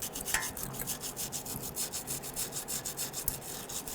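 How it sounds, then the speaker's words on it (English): A gentle bristle brush scrubs the ports of a rear brake caliper on a 1999–2004 Jeep Grand Cherokee. The brush makes quick, rhythmic, close scratchy strokes at low volume, with nothing else heard. "we grabbed a very gentle bristle brush here, and we want to clean the ports here"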